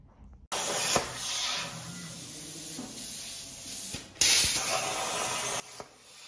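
A CNC plasma table cuts a metal mounting plate for an electric motor in a quad bike conversion, giving a steady, loud hissing roar that starts abruptly, runs continuously with a brief surge near the end, then cuts off.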